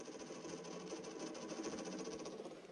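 Fuel being pulled out of a car's tank through a shaker siphon hose, a steady close whirring, gurgling flow with a fast rattling pulse throughout, and no talking over it.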